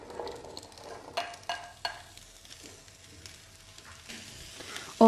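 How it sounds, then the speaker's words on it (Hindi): Vegetables fry in oil with cardamom, cloves, star anise and cumin for a vegetable biryani, giving a soft crackling sizzle broken by a few louder stirring clatters, with no talking. "और इन्हें फ्राई करना है।"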